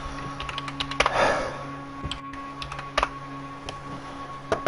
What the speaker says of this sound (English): But you can hear my loud keyboard.